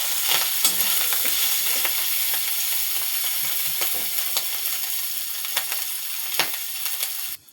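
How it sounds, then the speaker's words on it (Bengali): Prawns frying in hot oil in a wok, with a loud, steady close-up sizzle broken by scraping clatters as they are stirred and flipped. "উল্টে দেবো। চিংড়ি মাছগুলো উল্টে দেবো।"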